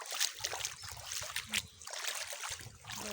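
Water trickling and splashing around the legs while someone wades across a river on a forest walk, a continuous close, uneven burbling with brief louder splashes.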